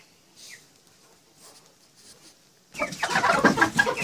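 Quiet rustling gives way to a sudden loud chorus of crowing and clucking from Kuchin roosters being fattened, close by and overlapping.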